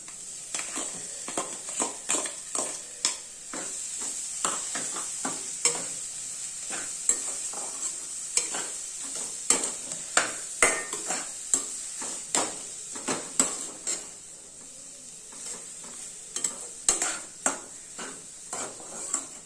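Mashed potato with masala is sautéed in a pan, with rhythmic spoon scrapes and taps against the metal over a steady low sizzle, close up and with no speech.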